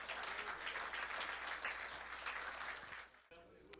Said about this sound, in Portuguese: Aplausos ao grande Rei da Glória.